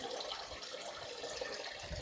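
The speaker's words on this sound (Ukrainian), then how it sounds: "Ось так там біжить вода" Steady trickling and splashing of running spring water, continuous and fairly close, with no voices.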